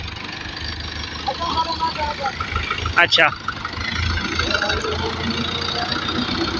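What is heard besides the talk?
tractor engine idling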